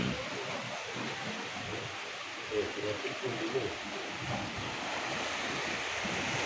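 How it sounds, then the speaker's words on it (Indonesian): Calm sea waves wash steadily at low tide on an early-morning shore, a soft continuous surf hiss with wind buffeting the microphone and faint bird calls. "Posisi air surut tapi ombak ya terbilang tenang"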